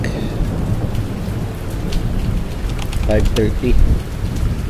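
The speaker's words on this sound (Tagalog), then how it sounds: "inaabutan na kami ng ulan" Heavy rain pours on a fishing boat at sea with rumbling thunder, a dense steady hiss of drops hitting surfaces close by, and a voice speaking briefly.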